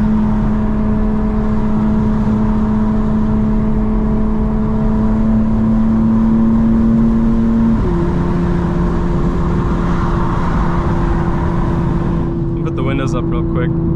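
A tuned 2025 BMW M4 Competition xDrive with a stage 2 tune and around 800 horsepower drones steadily under load from inside the cabin, its engine tone rising then stepping down as it shifts, with a person talking over it.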